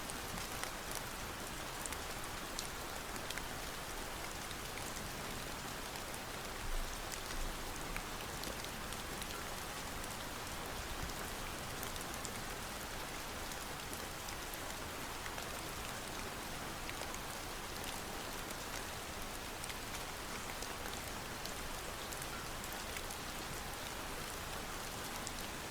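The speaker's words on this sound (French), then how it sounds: "Maintenant, laisse le son de la pluie te bercer." Steady rain falls on the ground in a dense, even patter, soft and continuous with no other sounds.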